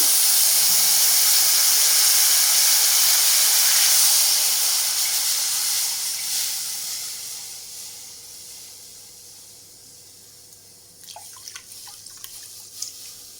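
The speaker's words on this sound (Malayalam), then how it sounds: "അണ്ടിപ്പരിപ്പ്, മുന്തിരി വറുത്ത നെയ്യിൽ ബാക്കിയുള്ളതിലേക്ക് നമുക്കത് പയ്യെ ഒഴിച്ച് കൊടുക്കാം." Loud sizzling hiss of coconut milk poured into hot ghee left from frying cashews and raisins for halwa, slowly dying down, with a few small crackles and pops near the end.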